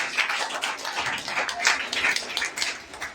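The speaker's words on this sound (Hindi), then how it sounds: "ताली तो बजाए एक बार जोर से, अपने लिए ताली बजाए।" A group of school children at an international school clap for themselves after a yoga session, a brisk scattered patter of many hands at moderate distance, with a voice faintly audible beneath.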